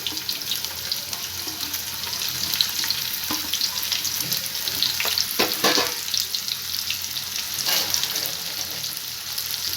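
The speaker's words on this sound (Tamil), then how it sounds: "இப்போ பொடியாக நறுக்கின வெங்காயத்தை சேர்த்துக்கலாம்" Steady, close-up sizzling of chopped onions frying in hot oil, with a few soft scraping stirs partway through.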